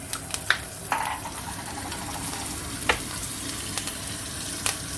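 Steak sizzles steadily in hot fat in a pan with garlic, butter and thyme, a continuous close frying hiss broken by a few sharp spits and pops, with no talking.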